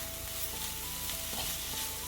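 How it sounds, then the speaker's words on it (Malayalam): Chopped greens and grated coconut for a Kerala thoran sizzle in a hot pan while being stirred, a close, steady frying hiss with soft scraping strokes. "അത് നമുക്കിനി ഇളക്കി കൊടുക്കാം."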